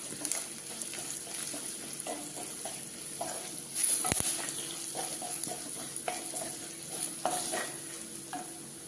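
A spoon stirs chili and turmeric powder through a pan while making Onam-special inji puli. Soft, continuous scraping and a gentle sizzle are heard close up, with a few sharper clinks and no voices.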